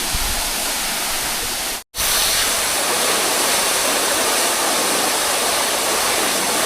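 The Ghatkara waterfall at Shahapur, among moss-slick rocks, sends out a loud, unbroken roar of rushing water up close, with a single momentary dropout near the start and no voices.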